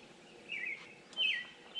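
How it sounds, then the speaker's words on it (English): Birds call in repeated bright, chirping bursts, about three in quick succession, over a faint steady background hum. "those birds are loud"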